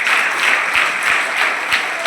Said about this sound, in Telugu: so you are all give them a good clap